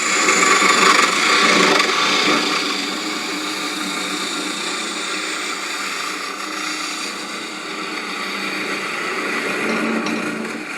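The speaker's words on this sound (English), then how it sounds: "1/2 inch spindle gouge. Anchor the tool, ride the bevel. Let's bring it around." A 1/2 inch spindle gouge cuts a wooden apple turning on a lathe, producing a steady, loud hissing scrape with a gently swelling and fading intensity throughout.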